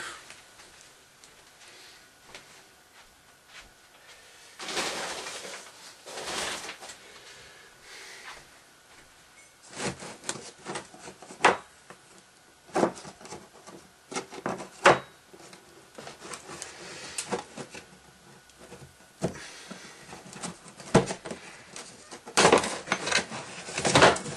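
Someone rummages through a drawer hunting for a knife, with intermittent clattering of metal utensils and wooden knocks coming in irregular bursts separated by quieter pauses, plus an occasional sniff or breath.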